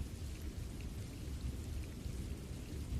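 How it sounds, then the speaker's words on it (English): Steady rain falls outside a window, a dense, even hiss with a low rumble underneath, continuous and moderately soft with no voices. "I hear the rain outside."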